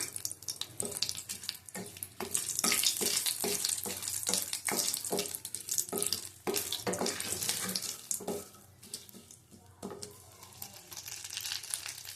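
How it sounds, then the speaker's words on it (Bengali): Two bay leaves frying in hot oil in a pan, with a steady sizzling hiss broken by frequent sharp crackles and pops, close and moderately loud, with no talking. "গরম হোক দুটো তেজপাতা দিয়ে দিলাম"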